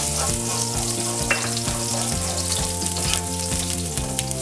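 Garlic sautés in a pan before blue crab is added, a close, constant sizzle and crackle with stirring scrapes under what sounds like steady background music.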